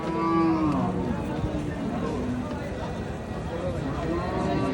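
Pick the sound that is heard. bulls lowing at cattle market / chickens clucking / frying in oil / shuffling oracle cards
bulls lowing at cattle market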